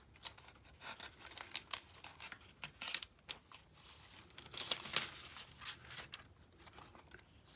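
Scissors trimming paper in a handmade gypsy journal, with quiet close snips and rustling paper in irregular bursts and no voices.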